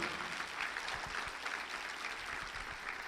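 Church congregation applauding during a Spanish-language sermon, a steady, dense wash of clapping that stays at a moderate level throughout, with no voices standing out.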